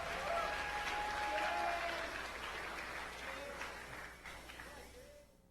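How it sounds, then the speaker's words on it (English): Applause from a crowd at a college radio open mic night, steady clapping that gradually thins and fades toward the end. "Give them another round of applause."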